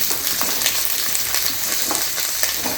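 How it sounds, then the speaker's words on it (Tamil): Drumstick pieces and brinjal, salted, fry in a pan with a constant close hiss and crackle while being stirred; no voices. "முருங்கைக்காய் கத்திரிக்காய் ரெண்டுத்தையும் சேர்த்துட்டு இது கூட வந்து கொஞ்சம் நம்ம வந்து உப்பு போட்டு வதக்கிக்கலாம்"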